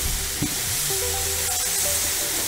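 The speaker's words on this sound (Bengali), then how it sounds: "ভালো করে ভাজতে হবে" Onions sizzle steadily in hot oil for a Madurai street-style chicken fry, a continuous bright frying hiss with faint stirring clinks, close and fairly loud with no talk.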